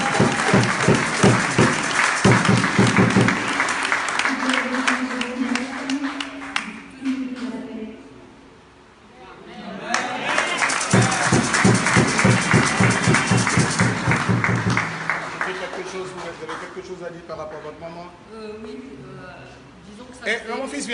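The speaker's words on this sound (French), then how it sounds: "Est-ce qu'on peut acclamer Jésus?" A church congregation applauds and cheers for Jesus in loud, sustained waves that fade briefly before surging again, with voices and music mixed in throughout.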